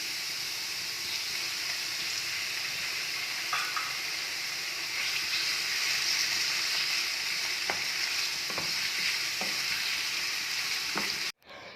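Chicken pieces fry with garlic in oil in a pan, a loud, steady, close sizzle with occasional clicks of stirring, ending with a brief drop near the close.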